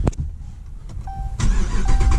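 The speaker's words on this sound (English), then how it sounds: "Start this joint up real quick." A Dodge Charger engine cranks and catches, then settles into a steady rumbling idle.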